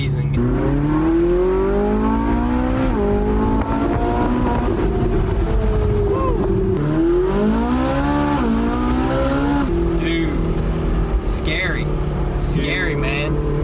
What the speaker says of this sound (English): I love the sound of the flat plane crank